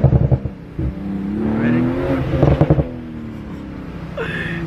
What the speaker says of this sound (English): it does all those pops and bangs, which are just so satisfying